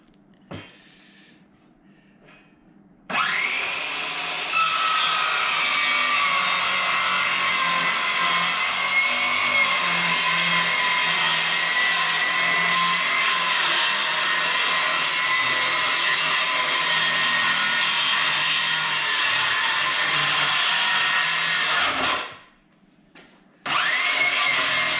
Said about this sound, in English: we're just gonna cut it by hand with the circular saw